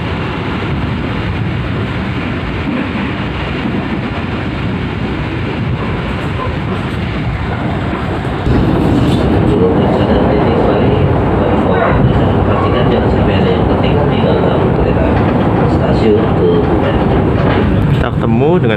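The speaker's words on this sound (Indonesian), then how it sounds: "Kita ketemu dengan kereta api Lodaya pagi dari stasiun Solo Balapan tujuan Bandung" From inside the Ranggajati executive train, the Lodaya train from Solo Balapan to Bandung passes close by, a loud continuous rail roar that swells midway and holds, with a voice talking over it.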